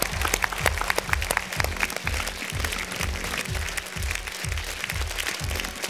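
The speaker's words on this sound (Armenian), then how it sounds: "ևս մեկ անգամ ծափահարենք" Applause from the audience at an X-Factor Armenia gala show, a steady dense crowd clapping over loud thumping rhythmic music that repeats about once a second throughout.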